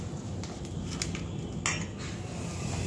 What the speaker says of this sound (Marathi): डायरेक्ट पहिले आपल्याला हे चमच्यानी मिक्स करून घ्यायचं आहे